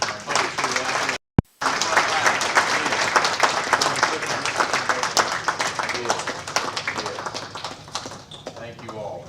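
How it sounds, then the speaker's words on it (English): A conference audience gives a loud, lively round of applause with crisp close claps throughout, broken by a brief gap near the start, gradually easing toward the end. "We need to give a round of applause to these folks who are out there."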